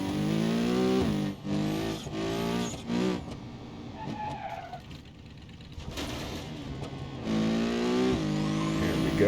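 A car in the BeamNG.Drive driving game, its engine revving hard through rising gear sweeps, interrupted by loud tire squeals and skidding, then accelerating again, all loud and close.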